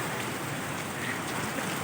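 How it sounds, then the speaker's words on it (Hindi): Rain falling on a sheet roof, a dense continuous patter and hiss with no breaks, steady and moderately loud through the short stretch. "ये देखो बारिश हो रही है"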